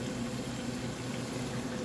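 Water heating in a covered pot on a stove flame for pasta, a steady low rumble and soft bubbling hiss that holds evenly throughout at moderate level, with no talking.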